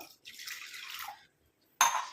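Water splashes in a short pour of about three-quarters of a tumbler into an iron pan, lasting about a second, then after a pause comes a brief, sharper splash or clink. No one speaks.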